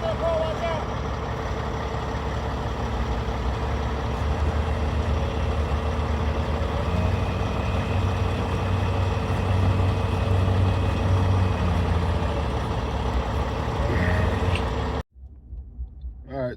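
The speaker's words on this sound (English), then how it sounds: "we'll hook that up and sling tow the trailer out of here" A heavy tow truck rumbles steadily up close while pulling and sling-towing a trailer, its deep engine drone holding loud and even before cutting off abruptly near the end.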